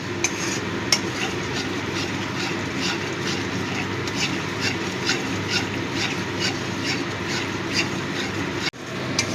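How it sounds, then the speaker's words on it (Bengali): Masala being stirred and sautéed in oil for a katla fish curry, heard as a steady scraping and rubbing across the pan with a busy sizzling background throughout, with a faint rhythmic clatter, and nothing spoken. "ভালো করে কষিয়ে নেব যতক্ষণ পর্যন্ত না তেলটা ছাড়ছে।"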